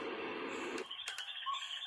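A forest-ambience soundscape plays from a small device kept beside a rescued baby bird, giving a steady soft wash of hiss that cuts off partway, followed by a few faint high chirpy tones.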